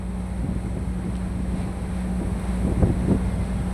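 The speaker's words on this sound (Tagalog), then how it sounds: "Yan, lakas ng hangin," Strong typhoon wind blows on a coast beside rough waves, a constant low roar that buffets the microphone, with a few gustier thumps toward the end; no one talks.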